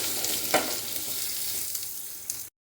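Chili powder sautéing in a pan for kara kulambu, a steady close sizzle of frying with a couple of soft stirring scrapes, heard alone for a few seconds before cutting off.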